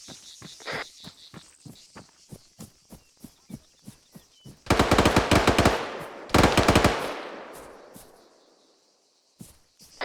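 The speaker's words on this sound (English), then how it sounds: "Heard the shooting, didn't see the shooter." Gunfire at an outdoor shooting training exercise: a steady series of single shots, then two dense, loud rapid bursts with echoing tails, followed by a few more isolated shots.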